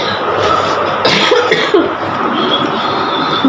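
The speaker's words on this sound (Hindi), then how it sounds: "मुझे खांसी भी हो रही है" A person coughs several times in short, close bursts, with a faint rumbling background and no clear speech.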